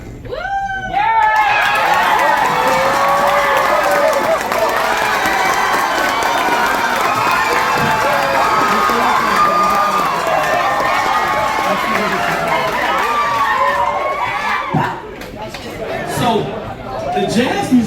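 A jazz workshop audience cheers and shouts loudly and continuously, a dense crowd roar with overlapping voices that holds steady before dipping near the end.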